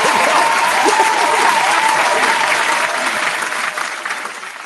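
Dense audience applause at a hip-hop mixshow, loud and continuous from the start, holding steady before gradually thinning and fading toward the end.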